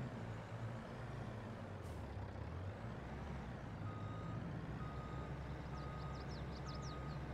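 Reversing beeps from a truck in Farming Simulator 22, a steady repeating alarm over a continuous low engine drone, moderately loud throughout, with brief air-brake hiss near the start.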